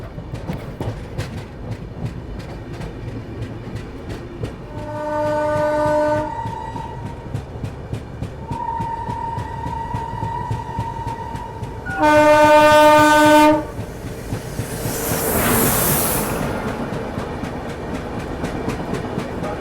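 Sampark Kranti Express running near Kanpur, its horn sounding in two loud bursts over a steady rumble of wheels and rail, with a whooshing pass of air late on.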